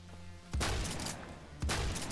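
In Phantom Forces, two loud, punchy gunshots sound about a second apart, each a sharp crack with a short booming tail.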